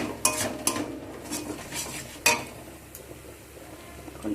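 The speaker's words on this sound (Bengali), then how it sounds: "দিয়ে সব কিছুকে আবারও আমি একসাথে" A metal spoon scraping and clinking in a pan while fish curry masala with pabda fish and kalo jeera is stirred and fried, giving a few sharp clanks over a soft, steady sizzle close by.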